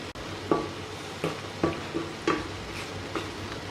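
Mushrooms being stirred into a chicken masala with cream in a sizzling pan, with five or six soft scraping strokes at a steady pace over a continuous frying hiss.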